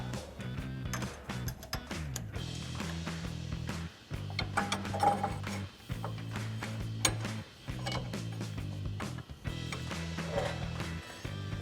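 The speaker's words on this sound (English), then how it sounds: "to tighten this down, we're gonna be using the breaker bar along with the tool I already mentioned." A breaker bar and inner tie rod tool tighten the inner tie rod on a RAM 1500, giving repeated ratcheting clicks and mechanical creaks in uneven bursts, quiet and close with short pauses.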